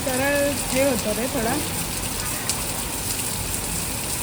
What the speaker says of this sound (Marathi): आणि आता पाऊस पडतोय.